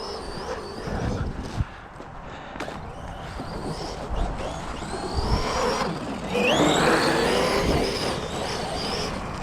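A Traxxas Sledge RC car runs fast outdoors at minus three degrees Celsius, giving a fluctuating motor whine and rumbling drive noise that rises and falls as it accelerates, fairly close.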